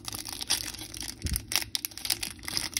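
Crinkly foil packaging of a Pokémon Sword and Shield Rebel Clash trading card pack being torn and crumpled up close, a run of short ripping and crackling bursts with no talking.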